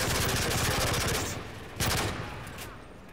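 Rapid bursts of automatic gunfire in Call of Duty: Modern Warfare 3 rattle loudly, then pause, followed by another short burst and a few scattered shots fading out.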